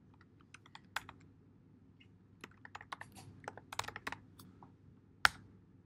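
Someone typing a city name on a computer keyboard, quiet irregular key taps spread across several seconds, ending with one sharper louder keystroke, in an otherwise silent room.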